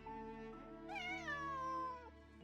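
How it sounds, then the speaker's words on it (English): A cat in Genshin Impact lets out one drawn-out meow that rises and then slowly falls, heard close and clear over soft, steady background music. "The meowing was awful."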